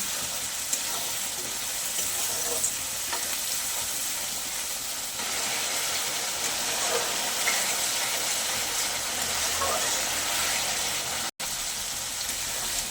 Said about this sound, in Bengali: সব কিছু আমি খুব ভালো করে কষে নেব